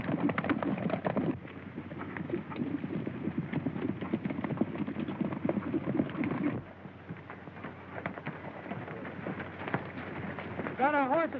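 Horses' hooves clip-clopping in a steady, close rhythm beneath men's dialogue in an old western set under Arizona skies, continuing for the whole stretch with a brief whinny near the end.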